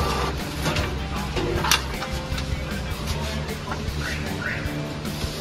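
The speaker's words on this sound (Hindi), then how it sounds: "अभी ये इसका प्रिंट आउट निकलेगा" An Epson EcoTank L4260 A4 Wi-Fi duplex ink tank printer with a print quality fault runs a page, giving a steady mechanical whir and hum with a few brief carriage clicks throughout.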